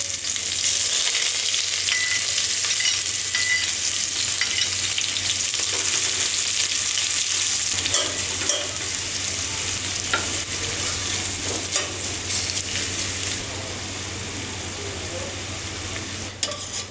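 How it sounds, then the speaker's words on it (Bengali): Onion fries in a pan for chicken biryani with a constant hiss and crackle, while a utensil stirs it and scrapes the pan now and then. The sizzle stays steady and close throughout. "এখন পেঁয়াজ দিয়ে দিচ্ছি।"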